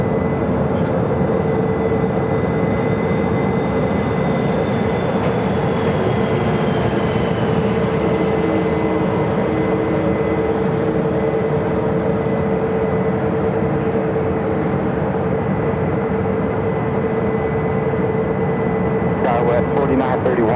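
An American Airlines Airbus A319, formerly an America West jet, roars steadily at Phoenix airport with a sustained whine above a broad rumble, loud and continuous throughout.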